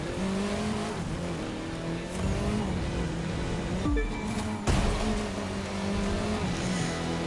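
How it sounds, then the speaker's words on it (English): A British Mini Cooper S racing in The Crew 2 video game: a continuous loud engine roar with rising and falling revs, a brief break and gear change around the middle, then hard acceleration again. "Let's bring that British Mini Cooper S home to the finish line."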